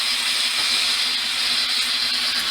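A scrap metal piece for a crossbow part is welded, giving a steady, loud, close hiss and crackle that runs unbroken throughout without any voices.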